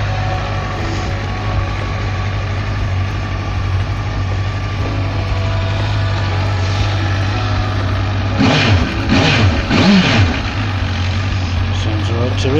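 Honda CBF1000 motorcycle with its stock exhaust idling steadily nearby, a low constant engine drone with a brief throttle blip partway through.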